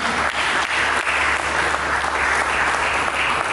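A church congregation bursts into steady, dense applause during a sermon, the many hands clapping together in a continuous wash of sound that fills the whole moment.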